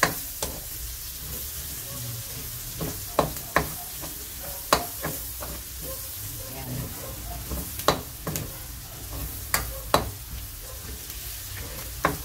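Garlic fries and browns in a pan for chopsuey, with a steady close sizzle broken by sharp scraping stirs and clacks of the spatula at irregular intervals.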